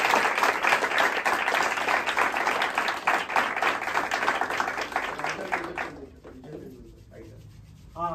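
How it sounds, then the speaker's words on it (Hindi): An audience at a student drama performance claps loudly and steadily for about six seconds for the second team, then the applause stops and a voice begins speaking. "सो हम सब इनके लिए भी जोरदार तालियां बजाएं"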